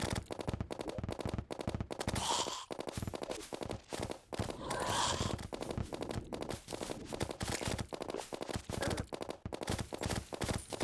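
Rapid bursts of assault rifle fire in the video game Terraria, loud, dense crackling shots repeating almost continuously through the whole stretch with only brief gaps.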